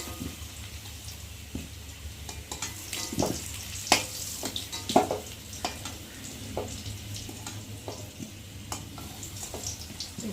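Fried potatoes lifted piece by piece out of hot oil in a home kitchen, with steady sizzling and frying throughout and several sharp scraping clicks of a utensil in the pan, close and fairly loud.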